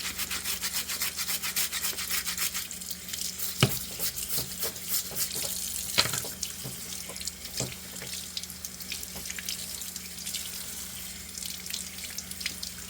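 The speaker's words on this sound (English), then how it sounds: "I wanted to be sure. Get my hands clean." Hands are washed under a running sink tap with dirt on the fingernails, a steady stream of water with scattered rubbing and splashing, close and moderately quiet, with no talk.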